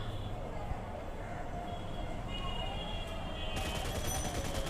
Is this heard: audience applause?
no